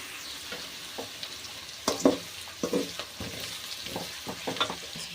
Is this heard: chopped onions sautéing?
yes